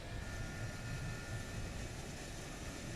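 An F-104 jet rolls down a runway in a flight simulator, producing a steady, loud engine roar and broadband rumble that stays constant throughout with no talk over it.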